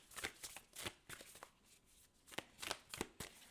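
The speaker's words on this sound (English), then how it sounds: "I'm gonna pull some more cards here." Tarot cards are shuffled and pulled from the deck in quick bursts of riffling and slapping, close and fairly quiet, separated by brief gaps.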